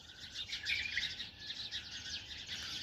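House sparrows chirping from trees in Ahmadi, Kuwait, a dense continuous twittering of many birds layered together at moderate distance, steady throughout with no voices.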